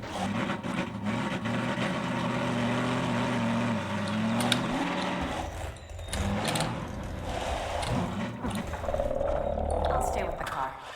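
A car engine drones and revs steadily in Half-Life 2: Episode Two, shifting pitch as it drives, with game-like rumble and clatter mixed in.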